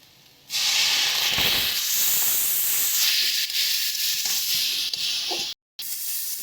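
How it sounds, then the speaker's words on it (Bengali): Spice paste for a Bengali eggplant curry fries in a pan as a splash of water is added, giving a loud, steady sizzle and steamy hiss that carries on with a brief cut near the end. "এই মশলা কষানোর সময় খুব সামান্য একটু জল দিয়ে দিচ্ছি।"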